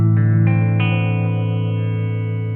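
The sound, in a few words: guitar through an analog delay pedal with modulation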